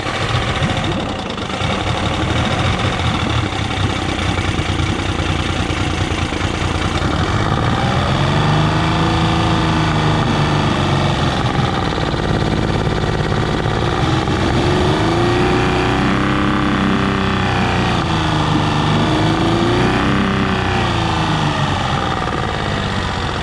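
A Honda BF30A 30hp outboard engine idles steadily after carburetor and intake work, a loud, continuous close-up rumble with wavering pitch and a knocking rattle throughout.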